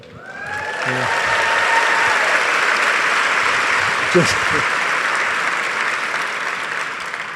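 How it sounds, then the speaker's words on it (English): A large audience at the 2016 National Book Festival gives Stephen King a long, steady round of applause, broad and even clapping that rises quickly and holds for several seconds before easing slightly. "You're applauding because I'm still alive"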